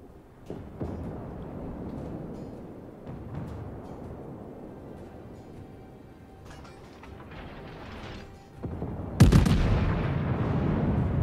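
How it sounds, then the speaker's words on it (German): Naval gunfire from ship guns in World of Warships, with a Bayern and a Cleveland in the battle. Quiet, low rumbling sea ambience builds, then a loud booming salvo erupts near the end and its blast rolls on. "Da kommen die Schüsse gerade über die Insel drüber."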